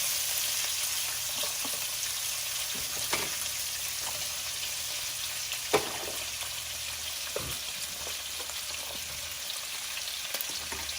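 Chopped onion fries in a pan for a homemade chicken quesadilla, giving a steady close-up sizzle with scattered soft pops and a few stirring clicks throughout.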